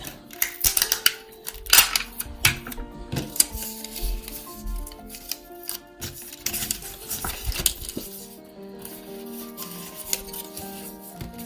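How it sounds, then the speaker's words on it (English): Sticky tape is pulled off the roll and pressed onto a paper heart craft at close range, with irregular crackling, ripping and rustling bursts and a few sharp taps, and no voices. "Get some more tape."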